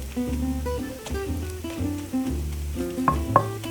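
Bacon cooking in a pan with onions, a steady close sizzle and crackle with occasional sharper pops, no voices.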